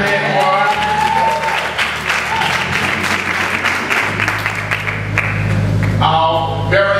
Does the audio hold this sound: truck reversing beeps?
no